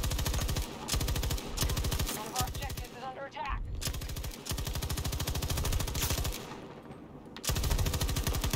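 Sustained machine gun bursts laying down suppressing fire in a World War II–themed online shooter, dense and loud, with brief gaps between long strings of rapid shots and game noise underneath.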